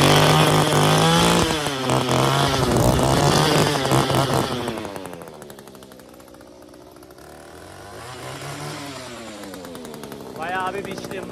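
A petrol-powered garden machine runs outdoors in 40-degree heat, its engine roaring loudly at first, then dropping to a lower idle before revving up again toward the end.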